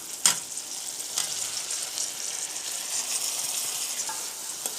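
Okra goes into a pan of tomato masala for vendakkai thokku and fries with a steady sizzle, with a few sharp clatters as it is added and stirred, close and alone.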